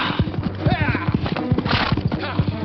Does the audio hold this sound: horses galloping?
yes